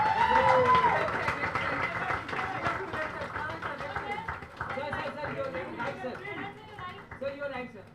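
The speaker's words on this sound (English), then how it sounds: "Big round of applause, ladies and gentlemen." Audience clapping at a book launch event, strongest at the start and gradually thinning out as overlapping chatter and a voice take over.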